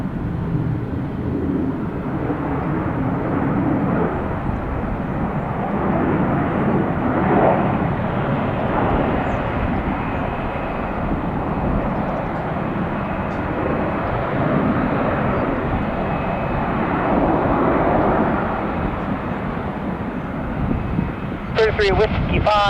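A fixed-wing airliner landing at Detroit Metro Airport roars steadily and loudly throughout, a broad continuous engine and wind rush with a faint voice beneath.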